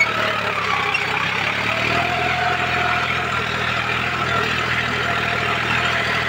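A John Deere 5105 40 HP tractor fitted with a cultivator runs steadily at 1600 rpm. Its engine hums in a close, constant, even drone with no change in pace.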